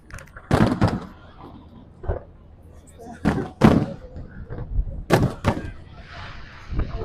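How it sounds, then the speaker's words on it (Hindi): Fourth of July fireworks at Red, White & Boom in Ohio, with several loud explosive bangs going off at irregular intervals. Speech-like sound is picked up between them, and crowd noise runs underneath. "बड़ी बड़ी से एवेंजर टाइप पटाखे फूटते हैं या विस्फोट हो रहा है तगड़ा"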